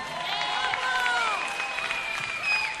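Concert crowd applauding a band, a dense steady wash of clapping with some cheering and whistles over the whole stretch, fairly loud and close.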